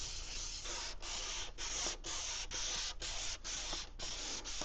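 A car headlight lens being hand-sanded, a steady abrasive scratching in repeated back-and-forth strokes with brief pauses between passes, close and even in level, with no talking.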